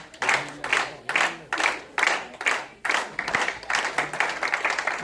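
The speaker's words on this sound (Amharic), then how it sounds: "በጭብጨባ ሞቅ ማለት ጭብጨባ" An audience at a Wollo association's 10th anniversary celebration in Las Vegas claps in repeated bursts, with short gaps between waves of close, lively hand clapping.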